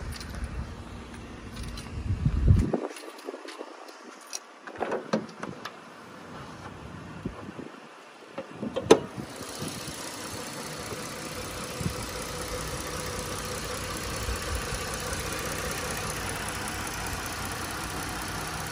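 A 2012 Ford Taurus Limited V6 engine idles with the engine compartment open, giving a steady low running hum with no ticking. It sounds close and moderately loud, with a few handling bumps early on before it settles into an even drone.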